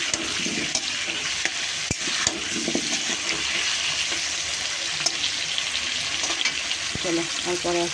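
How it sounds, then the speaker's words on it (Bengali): Potatoes fry with turmeric and salt in a pan, giving a steady, close sizzle with scattered stirring scrapes and small pops, no voices. "লাল লাল করে ভেজে নিই আলুটা।"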